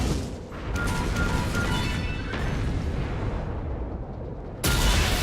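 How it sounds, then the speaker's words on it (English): Loud, dense bursts of synthetic laser cannon fire in a video game crackle and boom almost continuously, with a sharp fresh blast near the end. "Boom, laser cannon."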